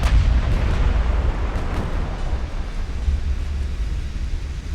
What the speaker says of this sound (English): Somebody's firing HE at us too.